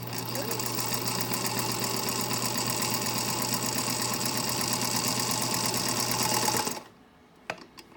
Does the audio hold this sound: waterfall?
no